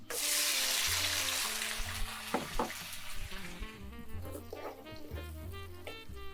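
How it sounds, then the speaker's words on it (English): Fresh cocktail tomatoes dropped into a hot skillet with garlic, a loud hissing sizzle at first that fades over a few seconds, followed by scattered clunks and scrapes of the pan and spoon. "We're going to take our fresh tomatoes and add those into the skillet."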